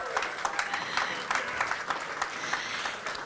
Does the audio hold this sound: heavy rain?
no